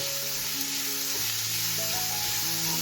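Ginger, garlic and green chili paste sautéing in a pan for chicken cutlets, a steady, close hiss of frying heard alone, with a faint musical tone running beneath.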